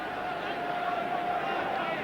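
Football crowd of Spurs fans at the Dell, Southampton, a steady distant roar and murmur of thousands of spectators filling the background without breaks.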